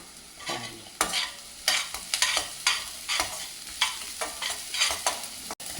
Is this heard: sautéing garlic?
yes